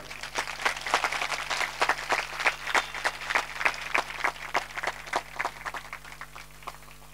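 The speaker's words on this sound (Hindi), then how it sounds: "इसके लिए सब मिलकर जोर से प्रभु के लिए ताली बजाएंगे।" A crowd at a church crusade in Chhindwara, Madhya Pradesh claps together in a steady, rapid rhythm, moderately distant and sustained throughout with no speech over it.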